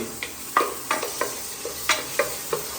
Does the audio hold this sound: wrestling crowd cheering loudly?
no